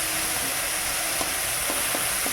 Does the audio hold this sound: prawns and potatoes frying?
yes